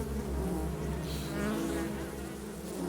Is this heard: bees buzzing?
yes